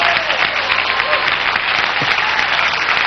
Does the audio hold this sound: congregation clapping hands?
yes